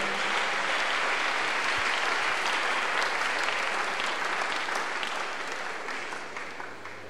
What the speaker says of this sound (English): Let's clap unto God and appreciate him.